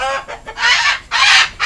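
A chicken at a bird sanctuary, near its screened-in night cage, gives a few loud, close clucks in quick succession over about a second and a half.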